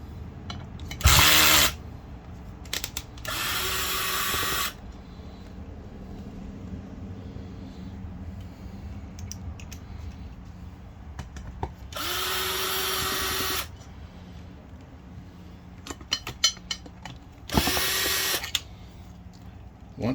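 An electric power tool, likely a drill driver with an 8 mm metric socket, removes four bolts from the top of a septic aerator, sounding in four loud whirring bursts separated by quiet pauses with faint background noise.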